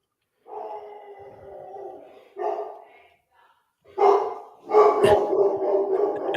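A person imitates a dog barking, giving a few separate woof-like yelps of varying length with short pauses, close and fairly loud, followed by a denser burst of barking sounds.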